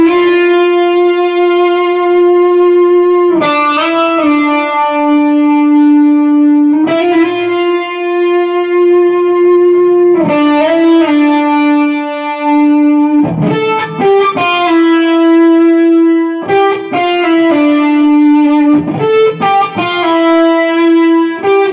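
Electric guitar through a Fulltone PlimSoul overdrive pedal on its vintage setting. Loud, sustained, singing notes are held for seconds and joined by quick changes in pitch, with no talking.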